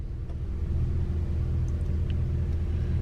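A B5 Audi S4 drives along steadily, heard from inside the cabin as a constant low engine and road rumble with a faint hiss over it, with no change in pace and no voices.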